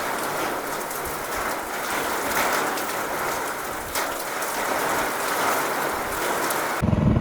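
Steady rain pours over open farm fields in a strong wind, a dense even hiss of drops lasting throughout with no voices, ending with a brief louder rumble.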